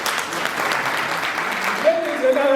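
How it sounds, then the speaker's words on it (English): Audience at a retirement ceremony clapping for themselves, a dense steady patter of many hands filling the room, fading as a voice begins speaking near the end. "clap for yourself."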